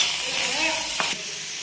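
Tomato pieces roasting in a little oil in a pan give a steady, close hiss and sizzle. A brief knock sounds partway through, and then the frying settles to a slightly quieter level.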